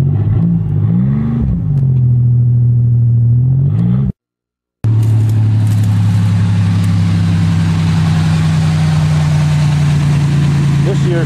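Engine of an old smashed Oldsmobile car idling steadily after starting, a loud low rumble close by, briefly cutting out and then resuming with an even running note.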